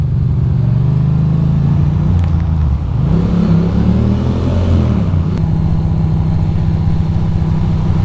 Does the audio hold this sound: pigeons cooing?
no